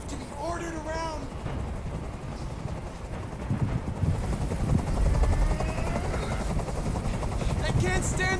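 A helicopter hovers in the video game Detroit: Become Human, a steady rotor drone that grows louder partway through, mixed with game sounds and characters talking over it.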